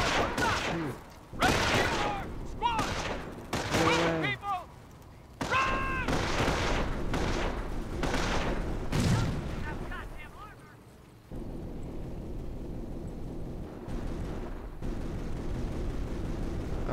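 Gunfire in the World War II strategy video game Company of Heroes, with rapid bursts and rattling volleys for the first ten seconds, then a steadier rumble of distant battle.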